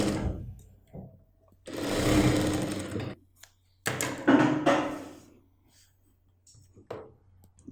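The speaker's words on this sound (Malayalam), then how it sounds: "നമുക്ക് വള്ളിക്ക് വേണ്ടിയിട്ട് ഇതൊന്ന് സ്റ്റിച്ച് ചെയ്തെടുക്കാം." A sewing machine stitches a fabric strap for a churidar bottom in two bursts of rapid whirring, close and fairly loud, separated by pauses with faint handling noises.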